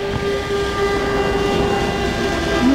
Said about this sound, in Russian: Ну, это сирена.